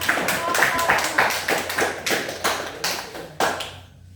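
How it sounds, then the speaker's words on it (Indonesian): A classroom of students claps hands after a group presentation, a quick series of close, crisp claps in uneven bursts that tapers off and ends in silence. "Oke, mari kita tepuk tangan"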